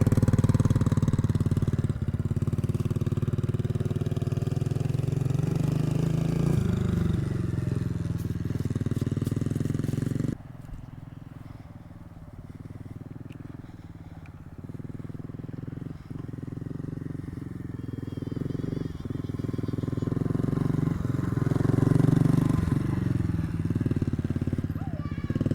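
A Kayo Bull 125 EFI kids' ATV with its 125cc fuel-injected engine drones steadily at close range, briefly quieter midway before building again, with people talking over it.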